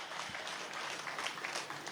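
An audience at a Hindi kavi sammelan poetry recital claps together in a dense, continuous burst of applause, heard at moderate loudness from a distance.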